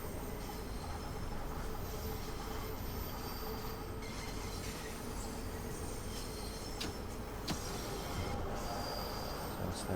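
A London Underground Bakerloo Line train in the Train Sim World 2 game runs through a tunnel with a loud steady rumble, brief wheel squeals and occasional clicks, with no voices.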